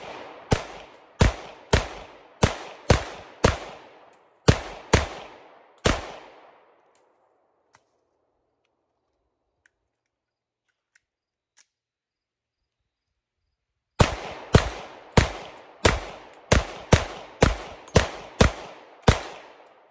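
A Glock 48 pistol fed from Shield Arms magazines fires two strings of rapid, evenly spaced sharp shots, about eight and then nine, each ringing out loud and close, with a quiet pause between strings.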